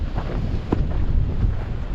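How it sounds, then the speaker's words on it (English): Rushing mountain creek tumbling down a canyon below high peaks in the Eastern Sierra, a steady broadband roar of water mixed with wind buffeting the microphone, continuous and fairly close. "So the water is rushing down from these high peaks here all the way down this canyon."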